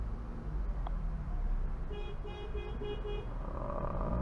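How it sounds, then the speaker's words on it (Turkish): Car horns honking in daytime city traffic in Adana, Turkey, a cluster of short repeated toots and a longer blast over a low rumble of engines and road noise. "Abi şu kornayı çalmasak var ya ama işte olmuyor bu ülkede de."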